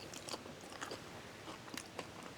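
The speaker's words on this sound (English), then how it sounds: "hear that crunch?" Crunchy bites into a beef tostada with refried beans, seasoned meat and toppings make several quiet, close crackling crunches, spread irregularly over a couple of seconds of chewing.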